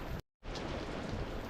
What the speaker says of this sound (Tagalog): umuulan, pambihirang buhay.